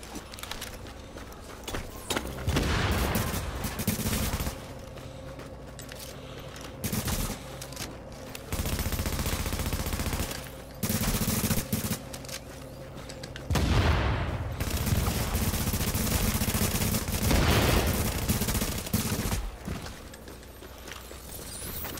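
Repeated gunfire from the shooter game The Division crackles through a busy battle soundscape in several loud bursts separated by brief lulls, with a voice briefly talking among the shots.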